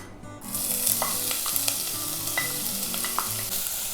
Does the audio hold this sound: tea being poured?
no